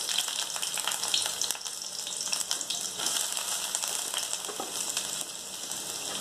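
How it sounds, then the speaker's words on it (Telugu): Sliced onions frying in hot oil for egg bhurji, a dense, loud, continuous sizzle with fine crackling throughout. "ఇప్పుడు ఈ హీట్ ఎక్కిన ఆయిల్లో నేను ఏం చేస్తానంటే ఫస్ట్ నేను ఉల్లిపాయలు వేస్తాను"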